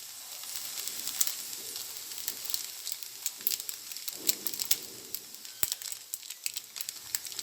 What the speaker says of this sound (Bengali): সয়া সসটা দিয়ে আমি একটু নেড়ে চেড়ে মিশিয়ে নিব